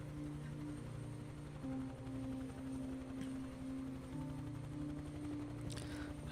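A helicopter in Microsoft Flight Simulator 2024, flying over Hawkins in the Stranger Things add-on, gives a steady rotor and engine drone with a low rhythmic chop, continuous and fairly loud throughout.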